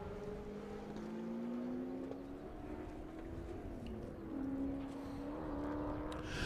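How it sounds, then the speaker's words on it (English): A Corvette with an LS7 engine races around the Circuit of the Americas track, its engine note rising and shifting steadily as it accelerates and changes gears, loud and continuous for the whole stretch. "The sound that LS7 makes is unlike any other Corvette here."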